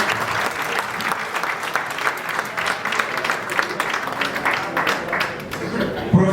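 An audience at a seminar on insurance sector challenges claps, a sustained wash of many hands with a steady crackling rhythm, close and loud, with a voice surfacing near the end.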